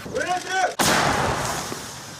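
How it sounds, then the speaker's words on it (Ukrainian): A voice speaks briefly, then a single loud, close blast from a 2S1 Gvozdika self-propelled artillery gun cracks out and trails off into a long, rumbling echo. "Працює самохідна артилерійська установка Гвоздика."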